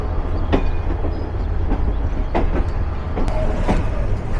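At a busy railway station, trains stand and move beside platform 4, where the Sindhu Provati waits, filling the air with steady low rumble and scattered sharp metallic clanks and knocks.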